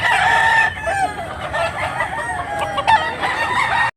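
A Buyogon bullstag gamecock crows loud and close in one drawn-out cock-a-doodle-doo, with faint clucks and background noise from a cockfighting event in Tabunok, Cebu.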